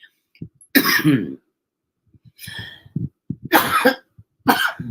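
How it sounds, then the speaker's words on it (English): A woman coughs in repeated harsh bursts with throat clearing between them, close and loud, separated by short silent gaps. "I don't know why I'm coughing so much"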